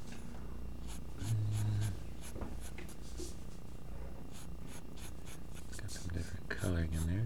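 A black Prismacolor coloured pencil scratches steadily across paper while a combination lock is drawn, a soft continuous scratching with faint strokes, under a voice talking.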